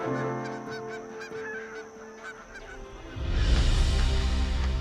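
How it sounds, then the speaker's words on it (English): Flocks of migrating geese honk in a Jiangxi wetland, with scattered calls over a steady hum at first, then a dense, loud chorus of many birds calling at once. "the wetlands are still noisy with birds, which flew south to escape the northern winter."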